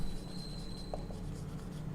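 Pen strokes scratch quietly and continuously on paper as an answer is written out by hand, faint and close.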